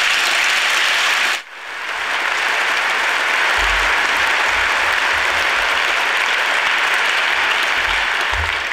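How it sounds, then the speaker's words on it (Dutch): Sustained applause from a party congress audience, a dense steady clatter of many hands filling the hall, briefly dipping after a second and then swelling back to full strength and continuing without pause. "En daar wil ik in ieder geval voor jullie zelf een applaus voor."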